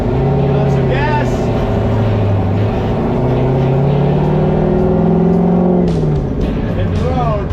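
A turbo LS-powered NASCAR race car revs hard and near during a burnout, the engine note rising and wavering for several seconds, then falling off before picking up again, with voices heard under it.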